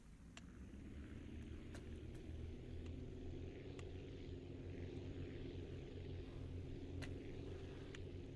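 A player-built helicopter in the building game Aviassembly runs its engine and rotor as a steady, continuous low drone throughout, with faint intermittent ticks on top and no talking.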